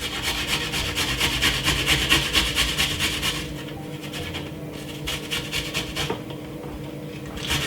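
Garlic is grated in rapid, rhythmic scraping strokes against a grater, close and continuous, with the strokes growing a bit softer partway through.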